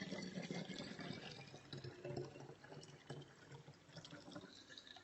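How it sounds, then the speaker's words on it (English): Vinegar pours steadily from a bottle into a container already half filled with water for an all-purpose cleaner, a continuous close liquid gurgle and splash lasting several seconds with no talking. "now I'm going to pour in my vinegar."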